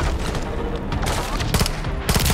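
Gunfire and grenades in the video game Call of Duty Modern Warfare III ring out as a dense fusillade, with several loud bursts of rapid shots near the end over a busy battle background.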